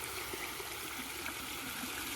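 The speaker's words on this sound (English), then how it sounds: "You just let the water out and then put more water in." Water draining out of a garden pond during a water change, a steady, close rushing trickle with no pauses and no voices.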